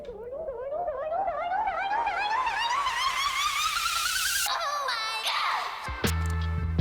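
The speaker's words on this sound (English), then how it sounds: "Throw in some white noise." A future bass build-up with pitched-up vocal chops climbing steadily over a rising white noise sweep that swells loudly, then cuts to a brief break and low synth hits.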